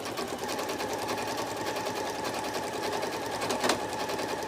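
A sewing machine runs steadily, quilting a wiggle stitch on a trapunto cushion, with a dense, continuous mechanical whir close by and no talking.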